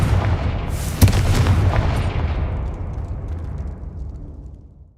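Confringo blast spell in Hogwarts Legacy lands with a sharp boom, then a long rumbling explosion that fades slowly over several seconds, heard alone without voices.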